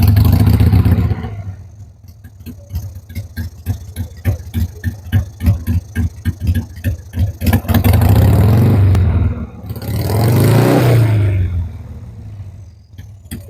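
A motorcycle engine idles at about 900 RPM on spring maintenance, chugging in a clear, even rhythm of firing pulses, near and loud, with a couple of brief revs or louder swells between the steady idle stretches.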